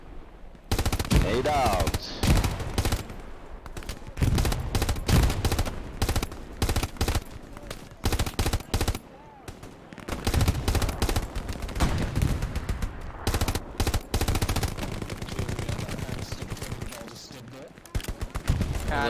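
Suppressing machine gun fire in the WWII shooter Hell Let Loose: long, loud, near bursts of rapid automatic shots with short pauses between them, under brief radio-style voice callouts.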